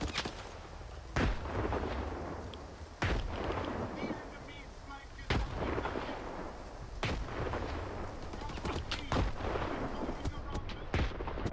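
Repeated grenade blasts in the S.T.A.L.K.E.R. 2 video game, heavy booming bursts every couple of seconds over a dense rumbling background of gunfire, with players talking now and then.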